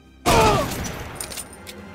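A single loud blast of gunfire from the video game Metro Last Light Redux hits sharply and then fades into a short, rattling tail.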